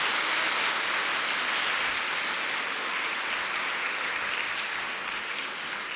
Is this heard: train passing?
no